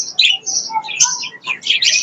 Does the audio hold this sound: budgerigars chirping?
yes